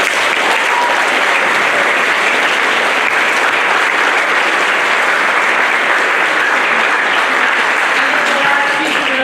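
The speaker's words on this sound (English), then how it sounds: "So would you all give her a round of applause," Sustained applause from an audience at a spring band concert, a dense steady clatter of many hands clapping at full volume for the whole stretch, with no voices standing out.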